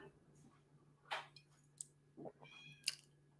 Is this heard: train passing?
no